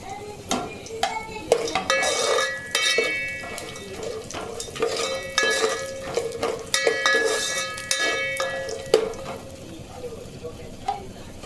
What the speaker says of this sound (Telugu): షాజీరా, దాల్చిన చెక్క, లవంగం, స్టార్ పువ్వు, కాజు కూడా వేసేసుకుంటున్నాను. ఇది ఫ్రై చేసుకుందాం.